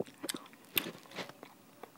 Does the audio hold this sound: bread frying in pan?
no